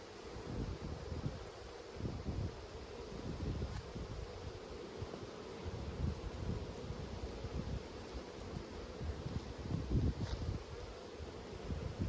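A steady, dense drone of honey bees swarming close around an open hive, continuous and even with faint rustling and no talking.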